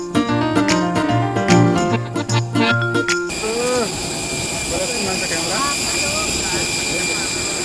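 Music plays briefly, then an IndiGo airliner's jet engine takes over with a loud, steady roar and a high whine, while voices murmur faintly beneath.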